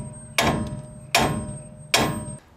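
A slightly larger hammer striking the front suspension of a 2004 Dodge Ram 3500 4x4 during a ball joint job, three loud, close metallic blows evenly spaced with ringing decay between them.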